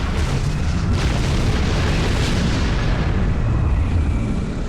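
Torpedo explosions in the space game Star Trek Online, a loud continuous rumbling barrage of booms rolling together and slowly fading, with no talk.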